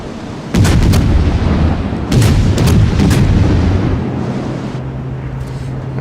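Warship main guns in World of Warships fire in heavy, booming salvos, two big rolling blasts close together, followed by a lingering rumble and engine drone.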